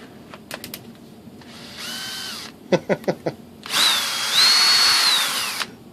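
A power drill driving a thread tap on a model glider whirs in short bursts and quick taps, then runs in longer whining stretches, its pitch rising and falling with the load.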